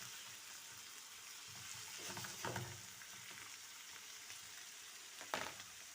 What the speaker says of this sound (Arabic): هاد البصله تاعي تتقلى معنا شويه